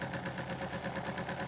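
An Aster live steam pannier tank model locomotive running slowly, with a steady rapid chuffing pulse and continuous hissing burner roar, close and even throughout.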